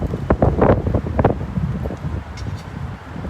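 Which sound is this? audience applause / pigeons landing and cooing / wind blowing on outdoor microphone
wind blowing on outdoor microphone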